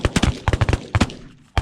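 Shotguns blasting at geese during a Texas goose hunt: a rapid cluster of loud, close shots, then a pause and one more report.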